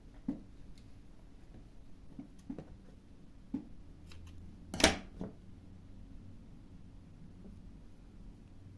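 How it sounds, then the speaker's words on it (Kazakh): Scissors snipping yarn while crocheting a net shopping bag, a faint quiet scene with a single sharp cut standing out near the middle among a few soft ticks. "Енді осы жерден жіпті қиып тастаймыз."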